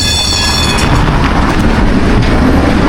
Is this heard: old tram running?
yes